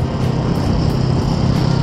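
A rare Inazuma motorcycle rides past, its engine a steady, fairly loud drone that holds through the moment with no voices over it.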